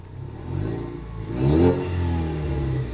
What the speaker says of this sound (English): I'll take this microphone off and you can hear the exhaust. And listen for the turbo.